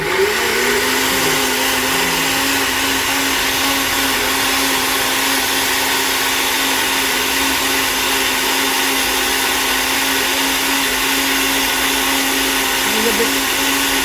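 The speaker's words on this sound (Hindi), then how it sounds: "जब ये ग्राइंडर एक जान हो जाएगी ना, बिल्कुल छिलके बिल्कुल मिक्स हो जाएंगे" A loud electric kitchen grinder blending peels runs continuously with a steady high whine and motor roar, close and unbroken from start to finish.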